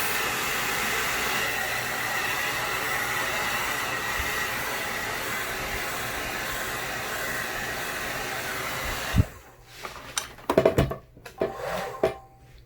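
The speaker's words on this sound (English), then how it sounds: "I'm actually going to grab the hairdryer and just kind of dry this off." A hairdryer blows a steady, loud rushing roar for about nine seconds while it dries a freshly painted marble-tumbler cup. It then cuts off, leaving a few clinks and knocks.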